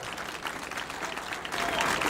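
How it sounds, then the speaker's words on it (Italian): Crowd applause for the Orchestra Popolare Sarda at a festival in Quartu Sant'Elena, a dense steady clapping from a large audience that swells slightly toward the end. "E quindi l'applauso più bello per l'Orchestra Popolare Sarda."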